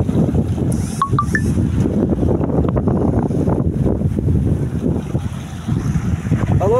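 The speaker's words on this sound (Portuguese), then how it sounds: "Vento e onda" Strong wind buffets the microphone over steady crashing sea waves on a stormy, foamy coast in bad weather, loud and continuous, with a few brief whistle-like tones near the start.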